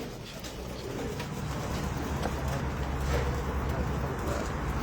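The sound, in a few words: pigeons cooing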